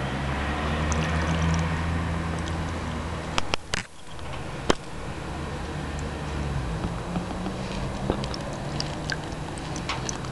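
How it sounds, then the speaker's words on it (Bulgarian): Water from a glass is poured over a grow-light controller, with a brief splash and trickle in the middle over a steady background hum of running equipment, no talk. "и ще полеме нашия контролер."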